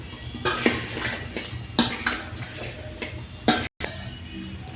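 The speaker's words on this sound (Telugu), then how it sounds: "ఇట్లా బాగా మనం ముక్కల్లో కలుపుకోవాలి." Cauliflower pieces tossed with salt, chilli powder and turmeric for pickle, giving a few distinct clinks and scrapes against a metal vessel at irregular intervals, fairly close and moderately quiet.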